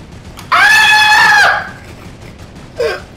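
A single loud, drawn-out scream from a video game character, rising sharply and holding for about a second before fading, followed by a short fainter cry.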